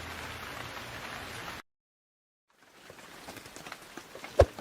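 Steady rain patters on a surface, then cuts to silence for about a second before a softer, sparser patter returns with a sharp close knock near the end.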